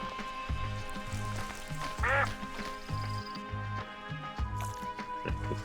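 Ducks quack repeatedly in the farming game Plentiful, a soft, regular series of short quacks over a faint ambient music bed.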